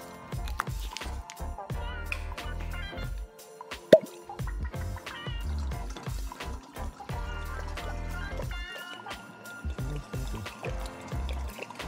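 Bourbon, 4.2 litres, poured for a barrel aged maple fashioned cocktail, a steady liquid pour and trickle with a few drips, mid-distance and moderately quiet.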